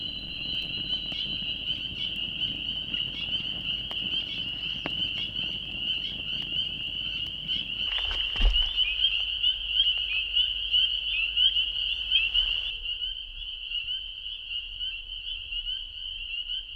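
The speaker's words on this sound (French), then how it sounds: "C'est fou, je suis entouré de grenouilles." Many frogs croak in a dense overlapping chorus by a wild forest lake at dusk, with a steady high insect-like trill running throughout and one louder nearby burst midway before the chorus thins.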